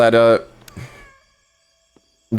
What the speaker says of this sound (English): There is a real live cat in this game that I can pet